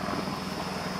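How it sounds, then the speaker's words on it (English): A helicopter flying over a beach, a steady droning rotor and engine rumble heard as a continuous wash of noise for a brief moment. "I think it's a helicopter."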